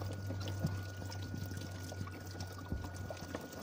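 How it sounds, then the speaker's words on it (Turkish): Coolant water draining from the bottom hose of a car radiator, a faint steady trickle and pour with small splashes under a low mechanical hum. "inanılmaz derecede bir tatlı su akıyor"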